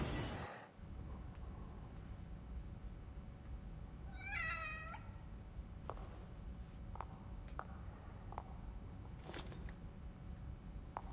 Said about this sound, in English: Why'd they pick a cat?